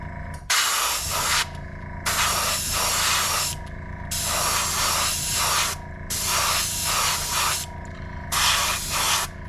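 An airbrush sprays thin transparent Createx tan paint over a stencil in soft light layers, with loud hissing bursts of about one to two seconds, separated by short gaps, over a steady background hum.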